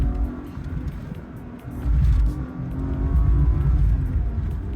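A 1998 BMW E36 323ti making a quick takeoff, its engine note rising steadily from low rumble as the car accelerates, heard loud from inside the cabin with road roar underneath.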